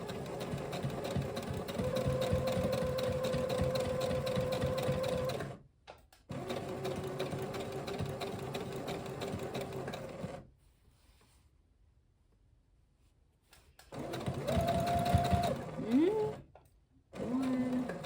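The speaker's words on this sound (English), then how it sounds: "Then I'll take my pin out, and then I'll start my edge stitch." A home sewing machine runs an edge stitch on workwear shorts in steady, close motor bursts: one long run, a pause, a second run, then a near-silent gap before a final shorter stretch with brief stops.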